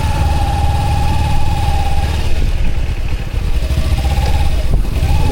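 Kawasaki Ninja 300 motorcycle engine running steadily nearby, a continuous loud low rumble with a faint whine, no clear revving, on a bike trip.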